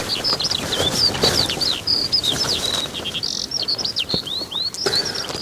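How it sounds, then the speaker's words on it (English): Birdsong drifts in outside a tent at a wild camping spot, a steady run of bright chirps and warbling phrases overlapping one another with faint rustling beneath, moderately near and with no talking. "Lovely birdsong."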